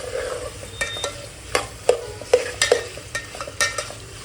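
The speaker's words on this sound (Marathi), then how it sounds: "सगळी व्हेज मिक्स भाजी टाकूया आपण." Mixed vegetables tumble into a pan and are stirred for a veg pulao, giving a run of sharp scraping and clattering strokes over a faint sizzle, with no talking.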